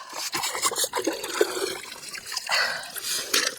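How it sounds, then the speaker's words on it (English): Gold-bearing wash being shaken down through a 1/8 inch sieve, giving a continuous rattling, watery swish of gravel and liquid with irregular bursts, close and fairly loud throughout. "the 1/8 of an inch sieve, and just shake it down, give it a shake down"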